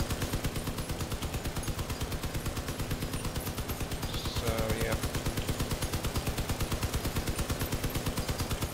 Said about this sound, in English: All guns are firing right now.